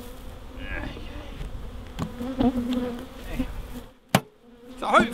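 A steady, close droning of many honey bees buzzing around hive boxes, with individual insects passing near the microphone and a sharp knock partway through.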